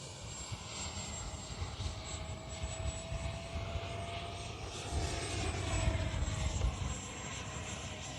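A Freewing 70mm F-22 electric ducted-fan RC jet flies overhead with a steady, high whining roar, a continuous airy rush that swells slightly midway, with no talk over it.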